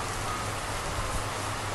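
Steady rain falling on a cold day, a dense even hiss that fills the whole moment with no breaks and no voices.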